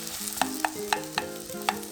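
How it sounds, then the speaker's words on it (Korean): Onion stir-frying in two spoonfuls of cooking oil, a steady close sizzle with a few sharp clicks of a utensil scraping and tapping the pan at irregular intervals. "식용유 2스푼, 양파 살짝 볶아주세요."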